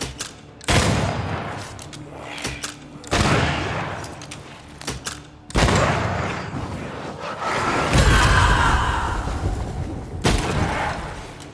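Rifle gunfire in the Banishers: Ghosts of New Eden video game: loud, close shots and bursts crack out at irregular intervals, with a sustained rumbling stretch of fire in the middle and no talk.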